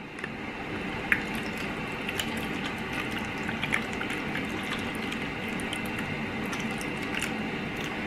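Liquid trickles and splashes steadily into a container for a pumpkin spice milkshake, with a few small drips and clinks along the way.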